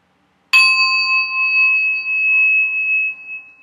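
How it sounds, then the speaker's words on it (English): A Tibetan heart chakra bell is struck once in an office meditation space, giving a sharp onset followed by a clear, sustained ring that lingers steadily for about three seconds before it begins to fade. "I always start by ringing my Tibetan heart chakra bell"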